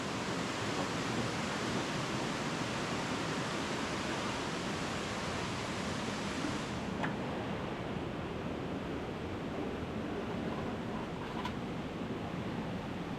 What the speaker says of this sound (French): On est au dernier moment, juste avant la cascade.